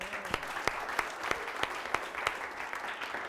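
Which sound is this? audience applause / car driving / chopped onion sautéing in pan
audience applause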